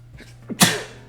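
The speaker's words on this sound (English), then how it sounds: "excuse me, I think I got to sneeze" A single sharp sneeze bursts out after a short intake of breath, close and alone, trailing off into a quiet exhale.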